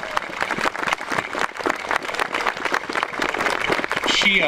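An audience gives a round of applause at a community event for a memorial trail. Scattered, uneven claps mix with a voice talking near the microphone.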